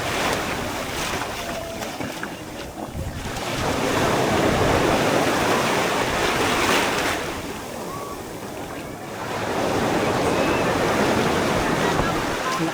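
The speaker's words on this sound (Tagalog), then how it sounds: "Lakas ng alon." Strong ocean waves surge and break at Patar white sand beach in Bolinao, a continuous roar of surf that swells louder in long pulses, with wind noise over the water.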